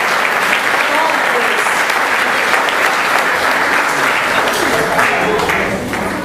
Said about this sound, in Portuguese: A ele um aplauso, porque o seu Jesus é poderoso.